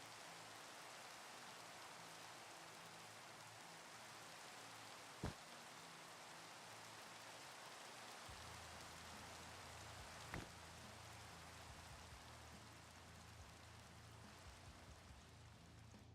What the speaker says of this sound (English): Let's see if we can stop the rain.